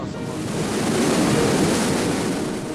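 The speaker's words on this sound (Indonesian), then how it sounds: "detik-detik saat banjir lahar hujan Gunung Semeru menerjang kawasan Sungai Besuk Lanang" Cold lahar flood of volcanic water and debris from Mount Semeru surging down the Besuk Lanang river in East Java, a steady, dense roar of rushing water holding at full strength throughout, with no voices.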